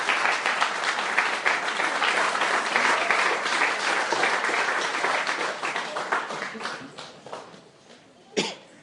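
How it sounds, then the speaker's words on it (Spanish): A church congregation claps warmly in a dense, steady wave of applause that slowly thins toward the end, with a cough near the close. "Denle otro aplauso al Rey."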